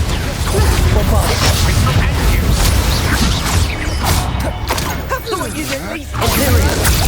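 Bombarda spell blasts in Hogwarts Legacy combat, a dense run of booming bursts and whooshing magic impacts rolling one after another, loud and continuous with spoken spell shouts over them.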